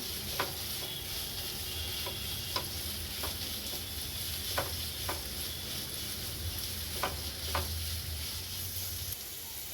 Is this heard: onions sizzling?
yes